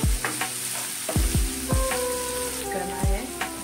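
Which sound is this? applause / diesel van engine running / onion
onion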